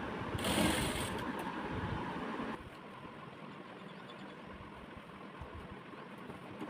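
A sewing machine runs a seam around a blouse neck piece, its fast steady whir loud at first, then dropping to a quieter continuous hum partway through.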